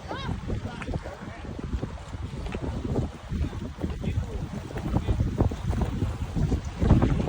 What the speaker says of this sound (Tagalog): Ang hangin-hangin.